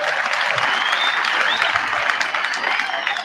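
An audience at a 60th-anniversary celebration for St. Edmund's Secondary School applauds, dense steady clapping from many hands that fills the whole moment and eases slightly toward the end.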